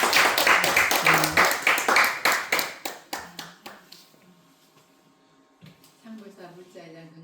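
A group at a Buddhist temple's opening ceremony for a basic education course claps in a fast, even rhythm. The beats grow sparser and softer and stop after about four seconds, and then people talk quietly.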